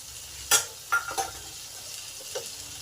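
Tomato being stirred into spiced masala with boiled stems and peas in a pan, soft sizzling under a few light scrapes and clinks of a spoon against the pan, quiet and close.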